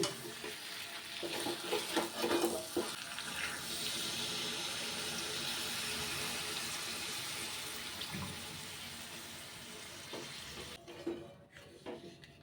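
Water goes into a pan of potato and pointed gourd curry, a steady hissing, bubbling rush with faint sizzle and a few soft clinks over about twelve seconds.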